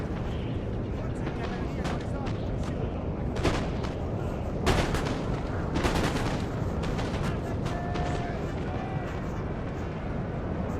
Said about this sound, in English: These guys are just shooting into the hill.